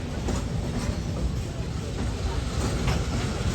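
The Shay steam locomotive Dixiana hauls a train on the Roaring Camp railroad through the redwoods, a steady close rolling rumble with faint clatter from the cars, continuous throughout.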